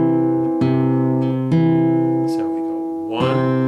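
Acoustic guitar three-finger Travis-style picking with a steady thumb bass ringing under plucked treble strings, a few distinct picked attacks sounding close and clear.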